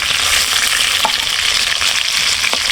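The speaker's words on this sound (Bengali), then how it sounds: "বন্ধুরা মাছগুলো সুন্দর করে ভেজে নিয়েছি এখন উঠায় নেব" Sea fish, sona fish for a tuna bhuna, fries in hot oil with a loud, dense, continuous sizzle close up, with a couple of soft utensil taps.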